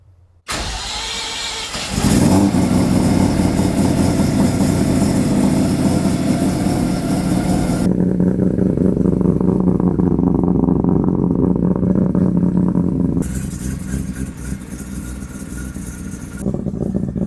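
A 900-horsepower Volvo engine runs on a dynamometer, starting abruptly and then holding a loud, steady, droning roar that shifts tone partway through and eases slightly near the end, with no voices.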